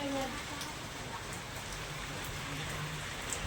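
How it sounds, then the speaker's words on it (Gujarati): Steady rain pours down outdoors as a continuous broadband hiss with scattered droplet taps, loud and unbroken throughout, with faint voices in the background. "મસ્ત વરસાદ ચાલુ છે."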